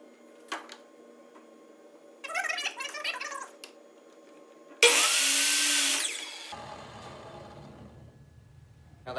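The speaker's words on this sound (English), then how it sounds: "so I'm going to cut that on the miter saw" A miter saw makes a 30-degree angled cut through a wooden board for a mountain shelf, a loud burst of about a second and a half with whining spin-down, framed by scattered workshop clatter and a lingering low hum.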